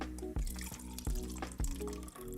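Tap water pouring from a faucet, a continuous splashing flow with irregular drips and gurgles, close and fairly loud throughout.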